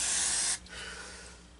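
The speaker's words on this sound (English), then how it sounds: "Spray out this bowl. Where's this pyro carb cleaner?" A steady, close aerosol can of carburetor cleaner sprays into a Troy-Bilt push mower's carburetor bowl for about half a second, then cuts off, leaving a faint lingering hiss and low background hum.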